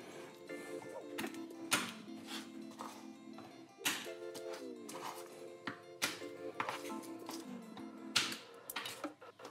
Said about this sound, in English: garlic, just rough chop.